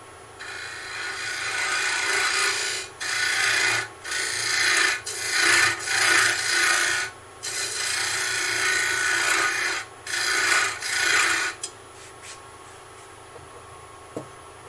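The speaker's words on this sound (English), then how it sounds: "Just using the skew to flatten off the bottom." A skew chisel flattening the bottom of a wood-turned tea light holder on a lathe, repeated rough scraping passes against spinning wood in bursts of a second or two, close up and fairly loud, with short pauses between cuts.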